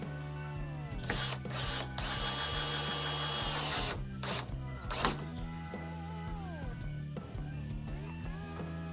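A power drill drives 3-inch deck screws into pole barn shed framing, with several loud whirring bursts of varying length and the motor winding up and down close by.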